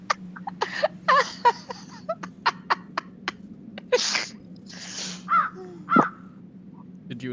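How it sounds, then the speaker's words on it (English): A bird caws repeatedly in Dracula: The Resurrection, loud harsh calls in an irregular series over a low steady drone, with a couple of longer raspy cries toward the end. "Did you enjoy the bird?"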